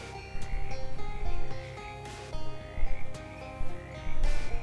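Croaking frog in the video game Shadows Over Loathing: a series of short, rhythmic croak bursts repeating in quick clusters over a steady musical background, fairly close and clear.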